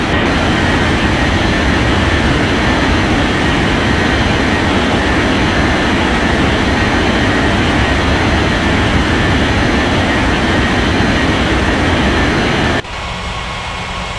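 A jet airliner taking off from runway 32 left in an air traffic control game, a steady loud broadband engine roar that holds for about thirteen seconds and then drops abruptly to a quieter rumble.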